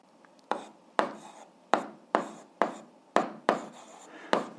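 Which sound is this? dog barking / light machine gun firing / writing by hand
writing by hand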